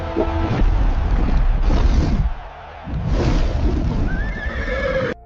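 A cartoon horse neighs loudly, a whinny in an animated chase, with a busy music-and-effects bed, a brief dip midway, then a rising tonal squeal near the end.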